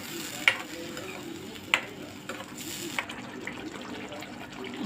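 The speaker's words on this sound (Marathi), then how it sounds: "हे सुद्धा चांगलं तेल सुटूपर्यंत भाजायचं आहे" Spice masala roasts in oil in a pan for an egg gravy, giving a soft, steady sizzle with a few sharp clicks of a spoon against the pan, fairly quiet and close.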